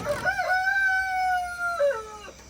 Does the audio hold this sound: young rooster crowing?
yes